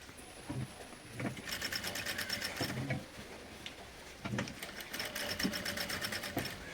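A sewing machine stitches a kids' top in several runs of rapid, rattling mechanical clatter separated by brief pauses, close and steady throughout.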